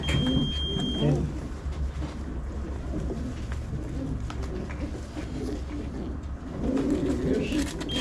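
Racing pigeons coo in low, throaty bursts close by, swelling at the start and again near the end, while people chat in the background.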